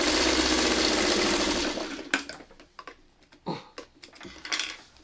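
A sewing machine runs a steady, rapid stitching buzz on the last seam of a snowball pattern for about two seconds, then stops, followed by a scatter of small clicks and handling noises close by.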